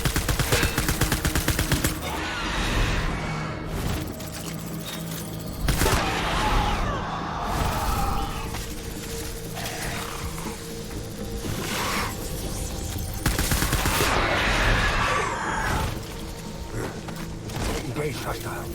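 Gunfire in the video game Death Stranding: repeated bursts of rapid automatic fire and heavy shots in waves over nearly twenty seconds, with clanking mechanical sounds between volleys, loud and close.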